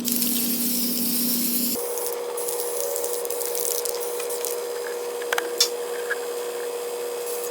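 Aerosol can spraying Canyon Black satin paint onto a cow skull, a steady close hiss that starts with a sharp change in tone and continues evenly, with a few small clicks near the end.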